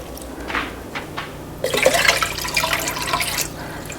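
Tap water pours into a pot on a stove, filling it with about 15 cups for a borax solution. A few soft splashes come first, then a steady rushing stream runs for a couple of seconds, close and alone.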